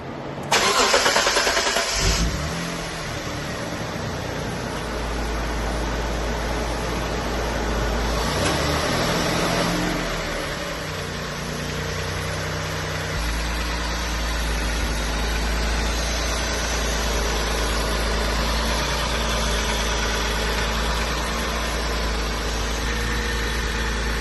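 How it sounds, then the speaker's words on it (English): A 1993 Mitsubishi 3000GT SL cranks and fires with a loud burst, revs briefly, then settles into a steady, close idle that blips up once more before calming to an even hum. "Now let me just start the car."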